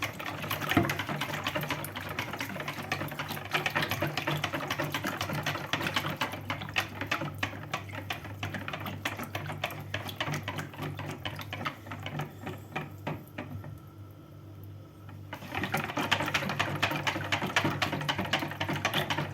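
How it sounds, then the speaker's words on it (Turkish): An electric whisk beats a börek filling mixture until smooth, a steady close mechanical whirr and rattle that runs continuously and briefly drops lower before picking back up. "çırpıcı yardımıyla karışımları iyice karıştıralım arkadaşlar. Homojen haline gelene kadar karıştıralım."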